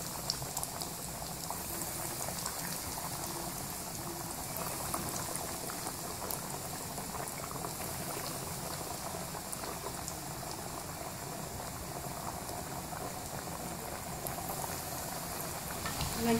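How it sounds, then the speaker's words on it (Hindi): Chicken nuggets frying in moderately hot oil on a medium flame, a steady, even bubbling sizzle that stays close and constant throughout with no talking. "अब हम नगेट्स फ्राई करेंगे। देखिए, एक एक करके डालते जाएंगे।"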